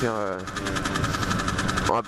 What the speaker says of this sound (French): moi je roule sur une 50 MBK X Limit de 2011 en super motard